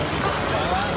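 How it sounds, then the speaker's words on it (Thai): Heavy rain falling on a street of outdoor restaurants at Jalan Alor, Kuala Lumpur: a dense, steady hiss of rain throughout, with a voice speaking over it. "ตกหนักจริง"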